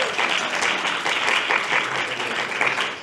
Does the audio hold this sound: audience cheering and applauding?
yes